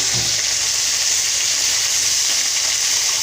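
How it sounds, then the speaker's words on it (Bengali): Kharkol leaf paste with green chillies frying in a pan, giving a steady, loud, close sizzle with broad hiss that holds unbroken throughout, no voices present. "খারকোল পাতাটা কিন্তু একটু সময় নিয়ে ভাজতে হবে"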